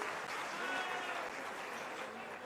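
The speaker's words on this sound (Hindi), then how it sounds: "जोरदार ताली" A crowd at a political gathering for a martyr's statue unveiling claps together in a steady, fairly distant wash of applause that holds evenly for a couple of seconds.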